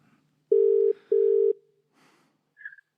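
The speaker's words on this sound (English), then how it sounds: "Let's see if we can get him on the phone." Telephone tones sound as a call is placed: two loud, even beeps in a row, then a brief faint rustle and a short higher chirp, clean and close against near silence.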